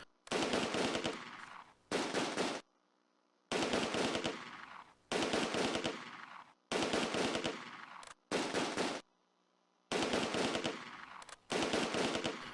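Bursts of machine gun fire in the WWII strategy game Close Combat: A Bridge Too Far, set in Veghel town, come as repeated rapid volleys of about a second each with short silent gaps between, loud and close.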